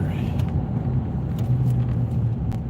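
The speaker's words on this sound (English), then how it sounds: "It's so nice to hear when you start up the truck." A truck engine rumbles steadily at a low pitch, loud and close, with a voice talking over it.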